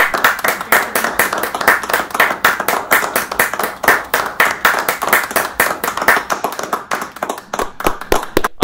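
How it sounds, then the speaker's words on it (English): Steady, close hand clapping for graduates at a virtual commencement ceremony, a rapid run of sharp claps from a small group that thins out toward the end. "Please give our graduates a well-deserved round of applause."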